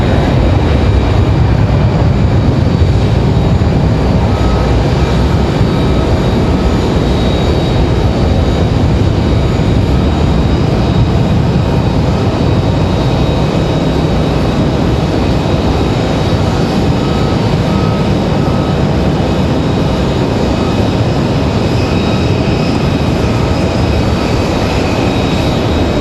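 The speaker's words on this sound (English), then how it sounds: "A319 on the move. Good sounding departure." Delta Airbus A319 jet departing RDU airport in Raleigh-Durham, a steady, loud broadband engine roar with whining tones sustained throughout, heard alone without talk.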